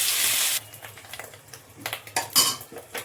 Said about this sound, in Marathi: आता हे उरलेलं पनीर सुद्धा आपण परतून घ्यायचे तुपावर।